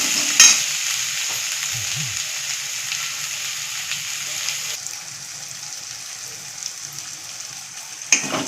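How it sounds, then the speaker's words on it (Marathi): Masala with a little fresh coriander roasting in a pan for a white peas curry, a steady soft sizzle with occasional scraping stirs, fairly close and even throughout. "हे सगळं आता चांगलं मऊ होईपर्यंत भाजून द्यायचं."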